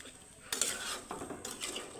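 Lentil and taro curry stirred in a pot with a utensil, two or three quick, close scraping and clinking strokes against the metal over a faint background.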